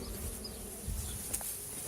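Honeybees hum densely around a busy hive with a weak-queened swarm, a faint, continuous buzz close by with no voices.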